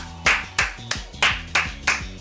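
Six sharp hand claps in a steady, evenly spaced rhythm, close and crisp, with a low musical tone running beneath them.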